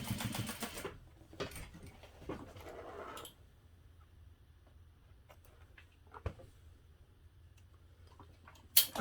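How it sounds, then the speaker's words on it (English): A sewing machine top stitches fabric panels for a parachute knapsack in a few short, rattling bursts during the first three seconds, then falls quiet apart from faint scattered ticks and clicks. "now I'm going to top stitch this using a 1/8 inch seam allowance"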